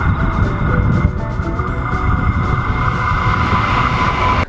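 A train rumbles past close by, a steady loud mechanical roar with faint rattling that holds throughout before cutting off abruptly.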